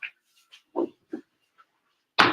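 A dog gives a few short barks and whimpers at close range, separated by pauses, with a sharper, louder burst at the end; no talk alongside.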